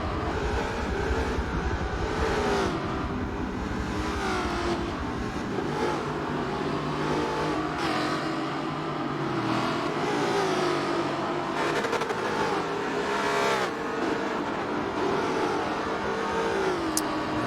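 Race car engines in Forza spec racing roar and rev continuously, with pitch sweeping up and down through gear changes and several cars passing near and loud, no talk over them.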